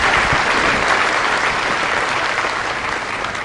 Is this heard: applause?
yes